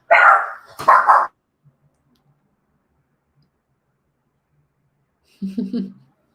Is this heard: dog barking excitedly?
yes